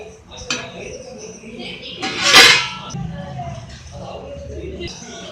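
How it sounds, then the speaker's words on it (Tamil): Egg paniyaram are flipped in a pan and a lid is set over it, giving metallic clatters and a louder clank of lid against cookware, close by, with a person talking throughout. "ஸோ திருப்பி போட்டிருக்கோம் இது ஒரு ஒன் மினிட் திருப்பி மூடி வச்சிடலாம்"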